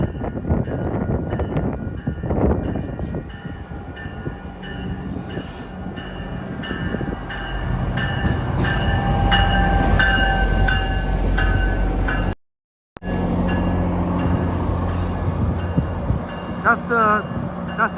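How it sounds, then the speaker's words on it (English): Train rumbling past a station platform, a loud sustained roar with metallic clatter and squeal that builds and fills the scene, with a brief cut and faint voices afterward. "That's the train that I got here by."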